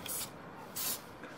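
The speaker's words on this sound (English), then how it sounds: "So I tend to spray it a little bit and then step away." Two short bursts of aerosol Hammerite metal paint being sprayed onto vehicle protection bars, each a close, bright hiss separated by a quiet pause.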